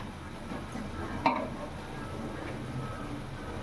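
Onions sautéing in a pan with salt and turmeric: a faint, steady sizzle with soft stirring and a single clink of a utensil against the pan, with no talk.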